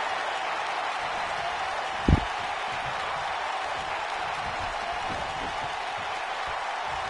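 A wrestling arena crowd in WWE 2K19 roars in a steady, broad wash of cheering and applause, with one brief sharp thud cutting through early on.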